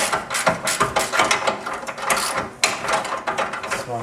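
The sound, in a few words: wrench tightening nuts on Mitsubishi Eclipse rear subframe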